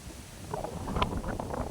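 Gusty wind rumbling against the microphone outdoors in Giresun, Turkey, low and steady, with faint water-like splashes in the background.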